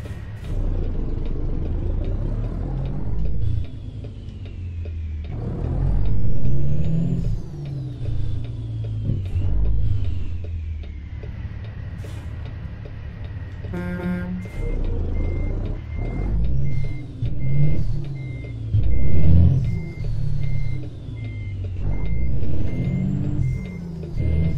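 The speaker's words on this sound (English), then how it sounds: "I'll be driving the old Schneider truck today" An old Schneider semi truck, a Peterbilt 389 glider, rumbles in American Truck Simulator, its engine revving up and down, with a steady series of reversing beeps sounding midway and no talking.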